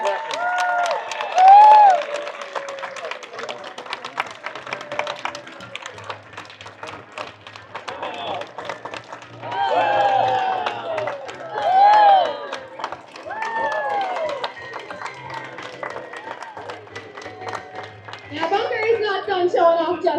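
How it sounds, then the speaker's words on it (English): An aquarium audience claps through a sea lion show, a scattered patter of hands that swells at times beneath a presenter's ongoing talk. "So let's keep that applause going for her while she does this."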